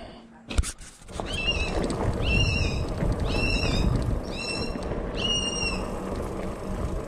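Repeated loud, bright bird calls in woodland along a cycling trail, about five evenly spaced call bursts over steady outdoor rumble and wind noise, with a brief knock near the start.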